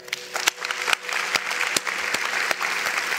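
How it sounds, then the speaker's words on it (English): A church congregation clapping for the Lord, a steady wash of many hands applauding together with sharp individual claps standing out, moderately loud and sustained for a few seconds. "Can we clap for the Lord?"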